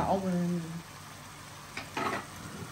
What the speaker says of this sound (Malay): kita masukkan rempah ni biar dia garing bersama-sama